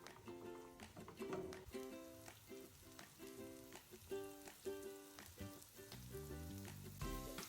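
Grated garlic and ginger frying in hot oil for beef pilau, a steady close crackling sizzle with stirring scrapes, while music with regular beats plays throughout.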